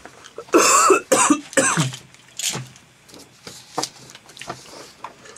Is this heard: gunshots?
no